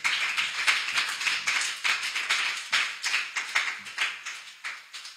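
A church congregation clapping in steady rhythmic unison, bright sharp claps repeating at a brisk even pace, fairly close and loud, no voices over them.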